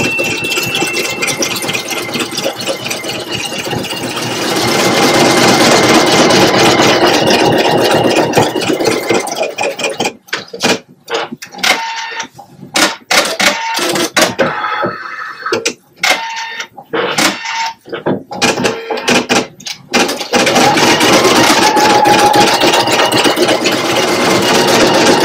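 A Pfaff Creative Icon 2 embroidery machine stitches a needle case design, with a steady mechanical hum and rapid needle chatter that breaks into choppy, intermittent bursts midway before resuming its continuous run.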